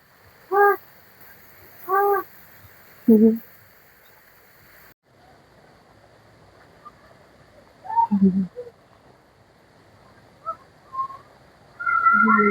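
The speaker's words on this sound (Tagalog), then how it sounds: "Oh, ayan mga uwak." Several short harsh crow caws ring out in bursts, three in quick succession and then more scattered ones, over a quiet outdoor background at a resort pool.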